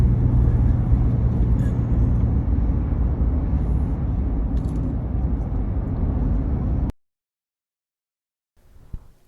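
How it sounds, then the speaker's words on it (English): A truck in 7th gear climbs a mountain on a trip from Georgia to Virginia, its engine droning steadily with road rumble for several seconds before cutting to near silence and a faint clunk. "Truck's still in 7th gear as we climb this mountain."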